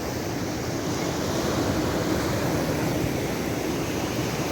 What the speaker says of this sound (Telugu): వ్యూ ఇది కోవలం బీచ్